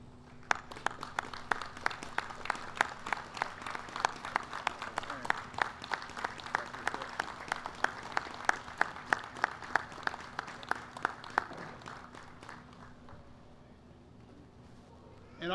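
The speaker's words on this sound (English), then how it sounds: "If you all would mind standing and give an applause to our Choctaw Tribal Council" Audience applause for the Choctaw Tribal Council at the opening ceremonies of the 70th Annual Choctaw Indian Fair, a steady crowd of clapping that holds for about twelve seconds, then fades out to near quiet.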